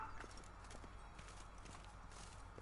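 Horse hooves clip-clop at a steady walking rhythm in The Witcher 3 video game, faint and even under low game ambience.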